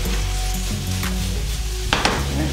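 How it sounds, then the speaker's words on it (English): Potatoes and onions searing in a stainless steel pan for a breakfast frittata, a steady close sizzle and crackle with a brief scrape of stirring near the end. "So I'm about to sear my potatoes and sear my onions."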